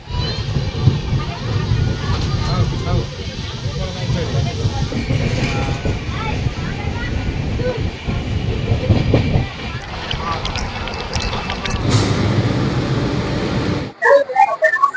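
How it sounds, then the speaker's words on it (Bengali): A passenger train running on rails toward Puri station gives a loud, continuous rumble with steady rolling rattle, close and unbroken for most of the stretch before cutting off abruptly near the end. "ফাইনালি 6 টাইমের আগেই ট্রেনটা পৌঁছে গেছে পুরী স্টেশনে"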